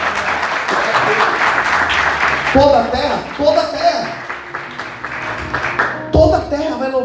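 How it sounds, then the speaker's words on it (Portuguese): A church congregation applauds during a sermon on the second coming of Jesus, broad clapping filling the first seconds before a preacher's amplified voice speaks over fading applause. "Você pode aplaudir Jesus por isso?"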